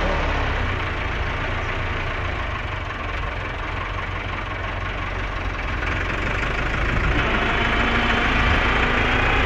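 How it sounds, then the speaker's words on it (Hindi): A tractor engine strains with a steady, loud, rumbling drone while pulling a cow stuck in a muddy pit, running continuously with no speech. "ट्रैक्टर का दोबारा जो ना हल्का हल्का या जोर लवान लगे हैं"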